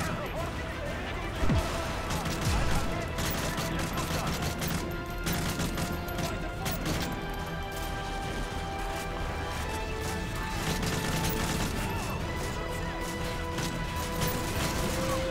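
Gunfire in Modern Warfare 3 single-player, a dense, continuous stream of shots and crashing impacts layered over game music, with someone talking over the top.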